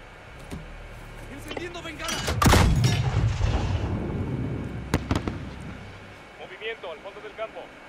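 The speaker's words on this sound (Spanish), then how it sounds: "Sargento, dispara una bengala." A flare fired in Call of Duty: Modern Warfare goes off with a sharp pop and then a long rushing hiss that slowly fades, with a later crack and scattered clicks, and voices nearby.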